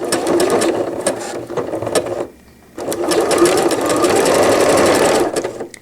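A sewing machine stitches elastic onto a cloth diaper cover with gussets, running in a steady rapid chatter, stopping briefly for a pause, then resuming a long continuous run close to the microphone.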